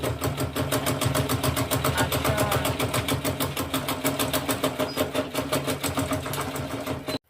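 A sewing machine top-stitches a tote bag of Ankara fabric and leather, its needle chattering in a fast, even rhythm, loud and close, running continuously until it stops abruptly at the end.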